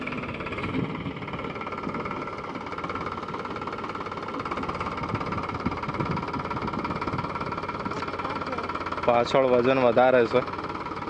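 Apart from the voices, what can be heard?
tractor engine running while harvesting peanuts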